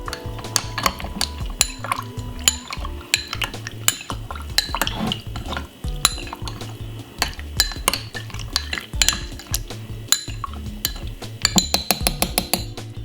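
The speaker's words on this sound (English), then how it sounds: "Alright, then give it a nice lovely stir." A metal spoon stirs a glass of honey-and-lemon detox drink with lemon slices, clinking sharply and rhythmically against the glass again and again throughout, close up and with no talking.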